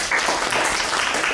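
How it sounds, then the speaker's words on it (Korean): Brief burst of audience applause at a team presentation session, steady dense clapping from a room of people, fairly loud and close, with no talk over it. "박수 한번 쳐주시고."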